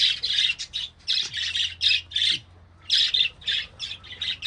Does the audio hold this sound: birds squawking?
yes